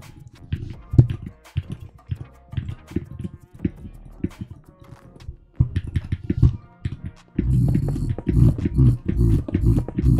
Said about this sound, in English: I use a modded keyboard.